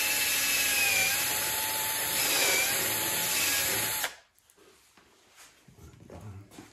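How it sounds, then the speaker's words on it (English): A power drill drives screws into a wooden shaper fence with a loud, steady whine that wavers in pitch for about four seconds, then cuts off abruptly, leaving quiet workshop shuffling and faint handling noises. "then I'm gonna go ahead and secure it with some screws"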